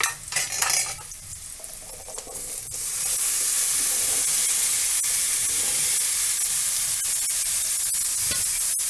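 Chickpeas sautéing in a pan for a chickpea fry, with a steady loud sizzle that builds after a quieter start, broken by occasional sharp scrapes and clinks of a spoon stirring against the metal.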